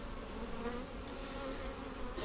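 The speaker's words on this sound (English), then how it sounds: "There was a bigger bee flying around." Bees buzzing around a swarm, a steady close droning hum with a bigger bee flying near, continuous and without speech.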